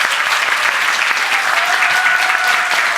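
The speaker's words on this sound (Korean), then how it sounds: "우리 정말 격려의 박수 한번 부탁드리겠습니다." A church congregation in Naperville applauds its choir at a Presbyterian Sunday service, with steady, dense clapping from many hands filling the room throughout.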